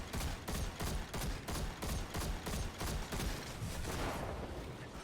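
Gunfire in a Destiny 2 Lost Sector video game, loud rapid bursts of automatic shots in a dense rhythmic barrage, filling the whole stretch without talk.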